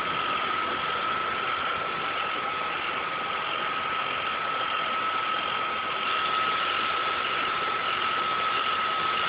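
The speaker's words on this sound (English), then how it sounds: "go ahead and turn on the engine and make sure it doesn't blow up" A Rover V8 engine idles steadily after a serpentine belt replacement, a constant close engine drone with a thin, even whine held throughout and no talking.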